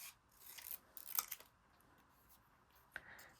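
Scissors cut a paper strip in half for journal cards, with a few faint, quick snipping and rustling sounds close by in a quiet room.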